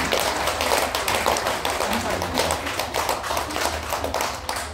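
Audience of mothers clapping at a health talk, a continuous rapid patter of many hands close by, steady in level throughout with no voices above it.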